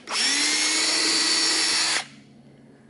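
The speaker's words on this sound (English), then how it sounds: "And the drill. Get it to the 3/16." A power drill with a 3/16 bit whines steadily at high speed for about two seconds, close by, then cuts off, leaving a faint hum and a brief click at the end.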